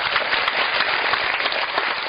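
Audience applause at a guitar concert, steady dense clapping from a crowd filling the whole stretch at even loudness, with no voices over it.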